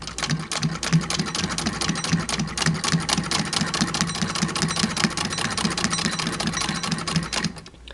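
A hand-crank sewing machine stitches through a dust mop head at a kitchen sewing table, a steady, loud mechanical chatter with a regular low thumping rhythm running continuously and alone for about seven seconds before stopping.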